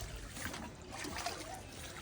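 Water trickles and splashes as it is poured over an elephant's head during a bath at Thekkady, a steady wet patter with faint voices in the background.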